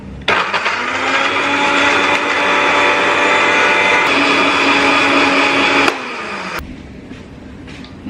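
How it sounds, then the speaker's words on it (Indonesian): A blender whirs steadily for about six seconds, blending ingredients with a little water until smooth for mie ayam, then cuts off abruptly, leaving faint kitchen noise and a brief clatter. "Kita tambahkan air dulu sedikit, kita tambahkan air biar gampang ngeblendernya."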